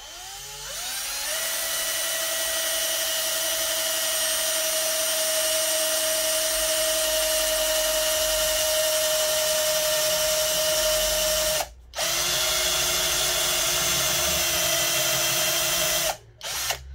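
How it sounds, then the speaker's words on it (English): A battery power drill spins up and whines steadily at high speed drilling into wood for a long stretch, briefly stopping twice near the end before restarting. "the battery drill is going to be powerful enough"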